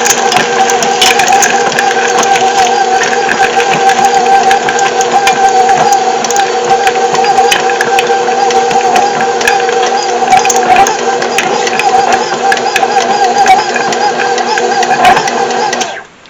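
Frozen cranberries from a frozen pack are chopped in a food processor, giving a steady, loud mechanical whir with dense rattling and clicking from the berries striking the blade, running continuously and stopping abruptly at the end.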